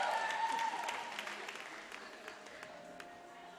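Crowd at a college men's basketball game claps and cheers for the stumblers, a burst of applause at moderate distance that fades gradually, with a few sharper claps standing out near the end.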